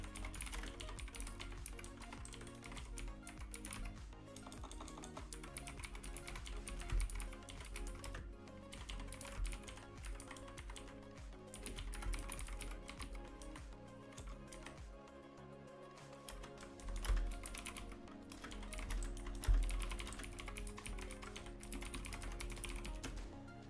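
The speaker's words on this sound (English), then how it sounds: "I'll just type it out by hand." Continuous typing on a computer keyboard during a Linux build session, a dense and steady patter of keystrokes that runs through the whole stretch with no clear breaks.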